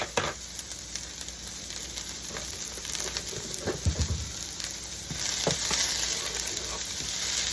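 Olive oil heating and frying in a pan for spicy sour cream chicken jalapeño enchiladas, a steady close sizzle with scattered clicks and a brief low thump, growing slightly louder toward the end.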